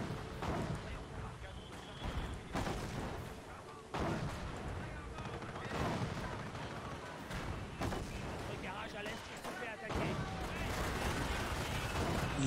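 Anti-tank guns and artillery fire in the Company of Heroes video game, a run of heavy booming shots and rattling gunfire spaced through the battle, while a player talks over it.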